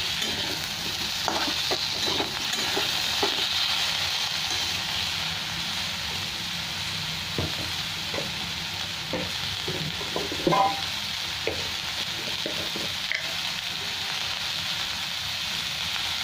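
Vegetables seasoned with salt and turmeric fry steadily in a pan, a continuous close sizzle with scattered stirring scrapes and clinks throughout, no voices.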